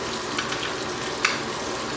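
Beer battered fish pieces frying in hot oil, a loud dense steady sizzle with faint crackles and pops throughout, close up with no talk.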